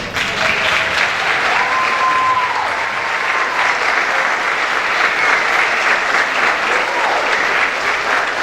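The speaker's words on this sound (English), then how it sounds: "will you all JFG members stand up and give him a round of applause?" A school audience of JFG members applauds a sponsor, a dense, steady wash of clapping from many hands that holds loud and even throughout, with a few faint voices threading through it.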